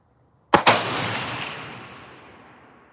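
A single sharp gunshot from a Ruger American Gen 2 Predator bolt-action rifle cracks loud and close, followed by a long reverberating echo that fades away over about two seconds.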